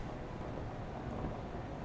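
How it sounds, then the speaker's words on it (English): Steady rain with a low rumble of thunder, heard while driving a truck in Euro Truck Simulator through rainy Scandinavia, a dense, even wash of noise with no talking. "I'd like to make it stop raining, but I'm pretty sure it rains a lot in Scandinavia"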